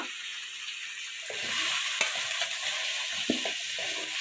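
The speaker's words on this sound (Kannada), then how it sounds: "ಇವಾಗ ನೋಡಿ ಈರುಳ್ಳಿ ನಾನು ಬಾಡಿಸ್ತಾ ಇದ್ದೇನೆ" Onions and green chillies sautéing in a pan for pepper chicken gravy, a continuous sizzle with several distinct stirring scrapes and clinks partway through, close, no speech.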